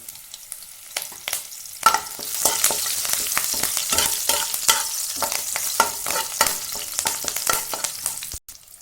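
Curry leaves and green chillies frying in a pan, a bright continuous crackling sizzle close up, punctuated by spoon-stirring scrapes and a few sharp taps, with no talking.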